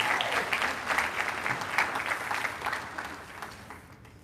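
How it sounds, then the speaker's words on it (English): Audience applause at a hospital health careers summer internship closing ceremony in Hawaii: steady, dense clapping from a crowd indoors that fades out toward the end. "we can give a round of applause"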